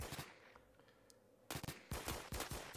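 Rapid pistol gunshots from the Roblox shooter Phantom Forces, a burst of sharp close cracks fired in quick succession after a quieter stretch of ambient game noise.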